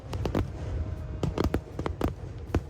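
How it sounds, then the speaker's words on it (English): Fireworks go off at a summer fireworks festival in Japan as a string of sharp, irregular pops and bangs. They sound moderately distant, with bursts clustered unevenly over a few seconds. "very much a summer fireworks festival here"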